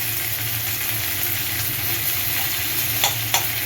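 Chopped curry leaves hiss and sizzle steadily in hot oil as they are stirred, a loud continuous frying crackle with a few scraping knocks near the end.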